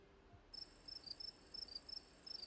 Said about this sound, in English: Crickets sing quietly in the sleepy little neighborhood.